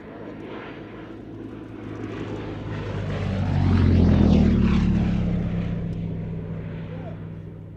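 A Gloster Gladiator biplane fighter flies past at an air show, its propeller engine swelling from a distant drone to a loud close pass near the middle, then fading away with a falling pitch.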